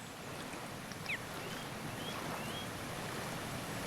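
A waterfall in Abiotic Factor gives a constant broadband rush of falling water, even and moderately loud, with a few faint chirps above it and no speech.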